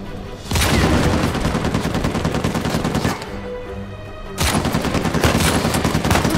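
Rapid, loud bursts of automatic gunfire from a minigun fight in Uncharted 4, set in a ship graveyard, dense and continuous with a short lull midway before firing resumes.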